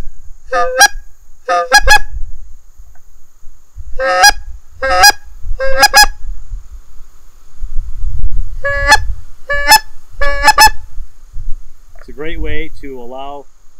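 Series of short honking goose calls blown on an OMNI hybrid goose flute call at slightly different tuning settings, in separate bursts with pauses, loud and close, ending with a quicker run of clucking notes.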